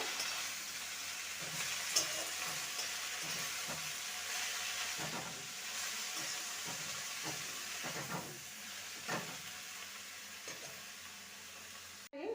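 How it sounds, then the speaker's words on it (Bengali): Bathua greens fry in a pan and are turned over repeatedly. A quiet, steady hiss and sizzle runs throughout, broken by soft, intermittent scraping as the leaves are tossed. No voices. "এবার বেথর শাকগুলো দিয়ে দেবো ভালো করে নেড়ে নেব"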